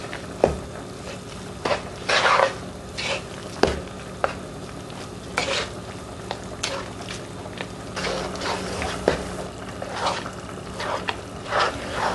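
An ube halaya mixture with condensed milk, sugar and purple food color is stirred in a pan, with repeated close scraping strokes and a soft sizzling, bubbling texture underneath.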